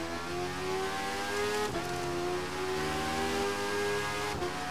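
A motorcycle engine revs during a road race, with the rider on a 1982 Kawasaki Ninja, a continuous loud drone that rises in pitch and dips at two gear shifts, with no talk over it.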